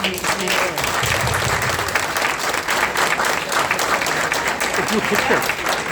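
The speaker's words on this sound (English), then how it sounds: "I wanted to give another round of applause for all of the volunteers." A crowd applauds volunteers at an all-candidates by-election meeting in Scarborough Southwest, Toronto, with dense, continuous clapping that stays loud and even throughout.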